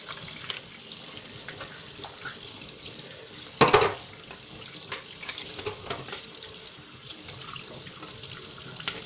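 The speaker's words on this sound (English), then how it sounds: "let me rinse off my utensils" A kitchen faucet runs as utensils are rinsed beneath it, a soft steady trickle with light clinks and one brief louder splash partway through.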